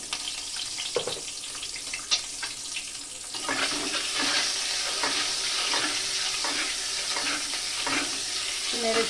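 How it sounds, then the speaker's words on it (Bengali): Eggs frying in a pan, starting with a few sparse clinks and scrapes, then a louder steady sizzle with regular stirring strokes, close by and with nobody speaking. "নেড়ে চেড়ে ডিমগুলোকে ভেজে নেব"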